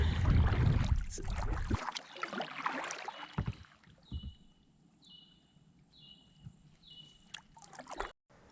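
Kayak paddling on the Suwannee River, with splashy water strokes and a loud wash of water up close at first, then quieter intermittent paddle dips and drips in a calmer stretch, with no talking.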